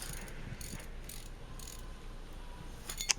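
A wrench with a pipe slipped over it for leverage works loose the fill plug on a Dana 44 axle differential from a Wagoneer. Faint, scattered metallic ratcheting clicks and scrapes, with a sharper click near the end, over a quiet background.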